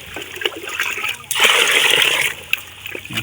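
Water splashes and gushes into drums being filled during a water shortage, with a loud sustained pour in the middle framed by smaller sloshes and trickles, close by.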